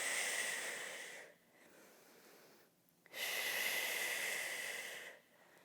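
Long, breathy exhales and inhales at close range during a birth prep workout, slow and soft, with a few seconds between breaths and no speech.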